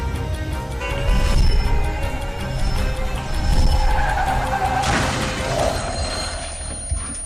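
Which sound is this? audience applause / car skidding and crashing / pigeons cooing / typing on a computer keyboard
car skidding and crashing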